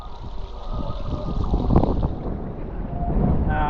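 Steady wind rushing past the microphone while hydrofoiling on water, loud and continuous with constant buffeting throughout, with no talk.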